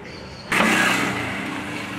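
A Renault Clio Dynamique 1.6 16v three-door revs sharply as the throttle snaps open, jumping from a low idle to a loud, quick-climbing engine roar that eases off slightly, heard close with no talking.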